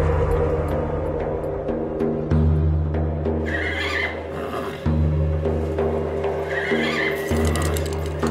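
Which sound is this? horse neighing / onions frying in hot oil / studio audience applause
horse neighing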